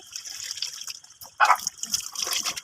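Water runs and splashes while a dog is bathed outdoors at dusk, a steady faint trickle with a brief louder splash midway, no talking.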